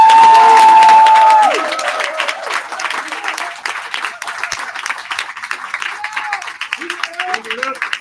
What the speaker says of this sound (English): let's get a huge round of applause for our coaches